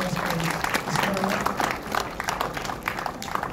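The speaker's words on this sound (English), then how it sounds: "So please also give a round of applause for Miss Maria." An audience at a film awards event claps steadily in dense applause, loud at first and thinning slightly toward the end, with some voices mixed in.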